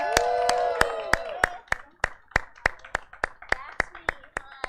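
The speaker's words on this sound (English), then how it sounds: "So give them a big round of applause" A live show audience, likely a small group, claps as performers come up on stage: sharp separate claps in an uneven rhythm, a fuller burst at first, then sparse distinct claps, with talk alongside.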